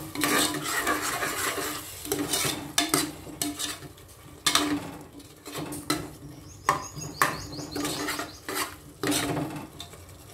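Curd being stirred into soaked rice in a pot, with repeated close scraping and squelching strokes in an uneven rhythm and brief pauses between bursts.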